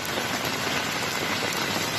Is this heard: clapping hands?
no